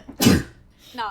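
One quick, sharp sneeze bursts out near the start, followed by a short quiet gap and a brief spoken word.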